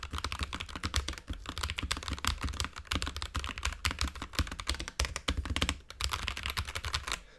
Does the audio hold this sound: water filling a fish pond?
no